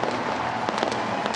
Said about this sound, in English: How about him setting off the fireworks?